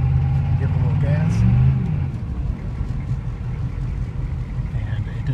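A V8 car with a misfire, not running on all cylinders, revs on a cold winter start and its tires spin on slick ground. A loud low engine roar swells and then settles as someone talks over it.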